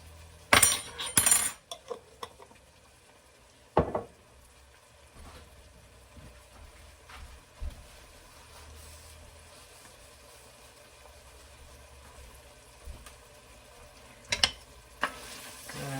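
Minced garlic sautéing in a pan for a chicken, green beans and potatoes dish, heard as a quiet sizzle with a few loud clattering stirs near the start, one around four seconds and more near the end.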